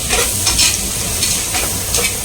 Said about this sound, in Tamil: ஸோ இப்போ நல்லா வதக்கிக்கும்